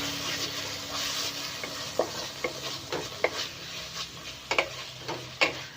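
Noodles mixed with vinegar in a frying pan, a low sizzle beneath repeated scraping stirs and distinct utensil taps against the pan in an irregular rhythm, close by.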